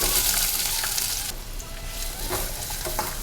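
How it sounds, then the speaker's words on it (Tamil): Sliced onions fry in a generous amount of hot oil, a steady close hissing sizzle with light stirring scrapes, no voice heard. "ஏன்னா வெங்காயம் நல்லா எண்ணெயில் பொரியணும்."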